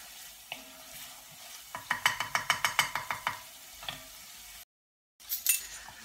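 Brown sugar caramelises in a pan as the base for a chip-shop chicken curry. A quick run of rhythmic spoon scrapes and clinks against the pan rises over a faint, low sizzle, with a brief silent gap near the end.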